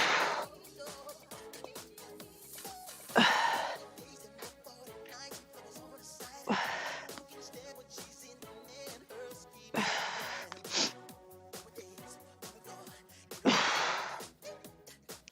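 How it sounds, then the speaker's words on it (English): Loud gasping and heavy breathing during an exercise class come in repeated bursts every few seconds over a steady rhythmic background. "You hear me breathing?"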